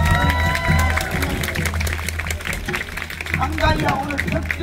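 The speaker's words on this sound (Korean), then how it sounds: "여러분 박수 한번 주십시오" An audience claps and cheers at a traditional Korean tightrope-walking show, a dense burst of applause with scattered shouts while a performer's voice carries over the top.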